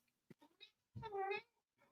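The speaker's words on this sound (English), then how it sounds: "Rocket Kitty accusing Gerry of lying." A cat gives one drawn-out, fairly faint meow, preceded by a few short soft chirps and small noises, with a brief quiet sound trailing after.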